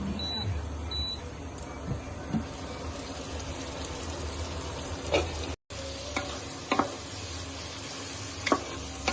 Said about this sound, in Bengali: মশলাগুলো ভালোভাবে নেড়ে ঢেকে দিই।